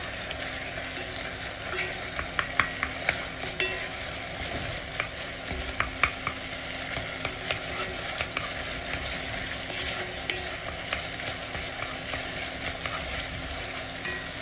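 Ingredients with ketchup stir-fried in a wok until fragrant, a steady close sizzle with sharp intermittent clacks of the spatula against the wok.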